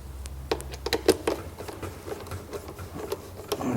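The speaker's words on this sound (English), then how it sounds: "Probably never seen anybody unscrew a speaker like this in your life." Torx T25 bolts being unscrewed from a BMW M4/4 Series coupe (F32/F82) speaker, heard as a close run of small metallic ticks and clicks at an irregular rhythm, with no talking.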